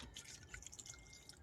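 Faint trickling and dripping of water being poured into a pot of pork humba, soft and close, with no voices.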